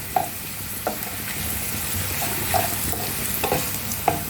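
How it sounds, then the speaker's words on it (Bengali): Onion frying in a pan for a prawn malai curry gives a steady close sizzle, with a few sharp clicks and scrapes of a stirring utensil spaced through it. "পেঁয়াজটা বেশি লাল লাল করে ভাজা যাবে না।"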